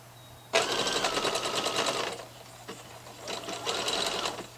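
Sewing machine stitching a sleeve onto a sweatshirt, a fast close mechanical whir running for over a second, a short pause, then another burst, with a low steady hum beneath.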